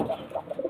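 Pigeons cooing at a Bengali pigeon market, a few soft, low, rounded coos rising and falling close by in a short burst, with no talk over them.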